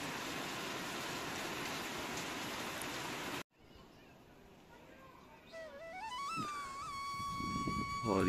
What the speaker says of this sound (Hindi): और बहुत तेज़ बारिश लग गई है यार,